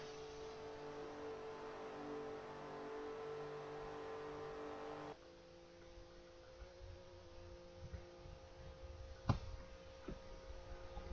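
NASCAR trucks racing in Forza Motorsport 4, a steady engine drone that drops to a quieter hum partway through, followed by faint engine whine and a brief sharp knock.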